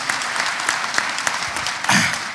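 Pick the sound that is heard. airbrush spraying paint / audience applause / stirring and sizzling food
audience applause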